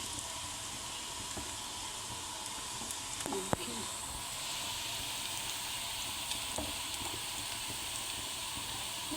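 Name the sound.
pakoras frying in oil for Punjabi kadhi pakora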